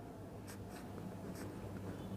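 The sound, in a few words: writing out a math question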